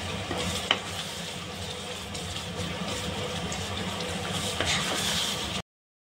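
A garam masala mixture fries and is stirred in a pan, giving a continuous sizzle with occasional scraping clinks before it cuts off abruptly.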